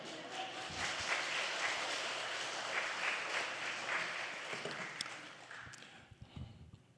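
Applause from a church congregation at a revival meeting, a dense, sustained wash of clapping that rises quickly, holds for several seconds, then thins out with a few scattered claps at the end.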